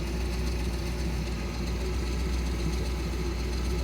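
A 1987 Malibu Sunsetter boat's inboard engine idles through a warm-up heat cycle, a steady, loud low rumble with an even throb that stays constant throughout.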